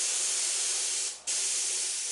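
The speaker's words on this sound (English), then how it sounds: "I'm going to use my touch-up gun and spray cobalt blue over" Touch-up spray gun spraying cobalt blue paint, a loud steady close-up hiss that dips briefly near the middle, then resumes and keeps going alone.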